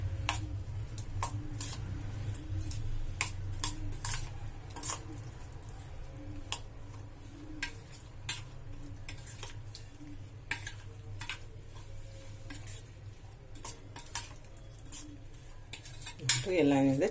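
A spoon scrapes and clinks against a bowl while chili powder is stirred into cut raw mango pieces for a pickle, with steady irregular metallic taps over a low background hum, close and moderately quiet.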